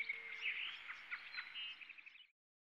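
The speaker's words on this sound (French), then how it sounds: "on entend le chant des oiseaux." Birds singing outdoors, a quiet run of overlapping high chirps and trills lasting a couple of seconds before cutting off to silence.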